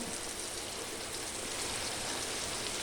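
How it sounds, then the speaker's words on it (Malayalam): A continuous, even wash of heavy rain hisses steadily outdoors, broad and unbroken, with no voices. "പുറത്ത് നല്ല മഴ ഇളകുന്നുണ്ട് കേട്ടോ"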